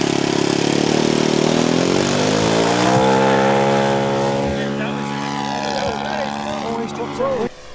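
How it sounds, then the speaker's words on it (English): A radio-controlled model Stuka warplane flies past with a loud droning propeller engine whose pitch sweeps downward as it passes, over a busy airfield crowd with voices. "As the Stuka flies by"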